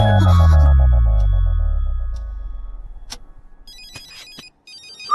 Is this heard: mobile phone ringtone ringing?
yes